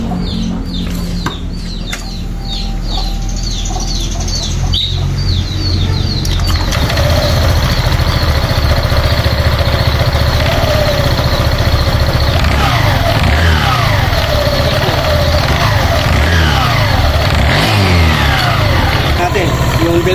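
A Euro Griffin 180i scooter with a cleaned CVT starts up and revs, a loud, steady engine drone with rising and falling pitch sweeps close by, after a few seconds of chirping birds and chickens, with someone talking over it.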